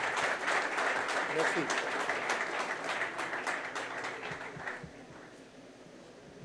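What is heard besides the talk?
audience applauding Charles Onana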